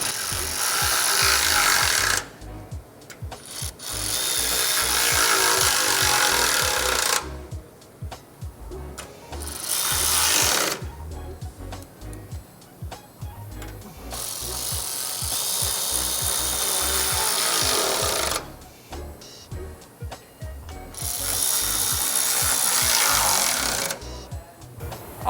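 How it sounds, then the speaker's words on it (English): Bolts on a Toyota Tacoma rock slider are run in with a 14mm socket on a power tool, producing repeated bursts of buzzing, ratcheting rattle separated by short pauses, close and fairly loud. "I'm gonna use a 14mm socket for the standard hardware, and I'm gonna go through and front to back,"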